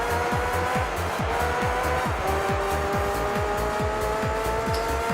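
A race car in the Gran Turismo 3 video game drives hard, its engine whining loudly with rapid gear-shift sweeps and a steady rising drone, the game sound alone and close.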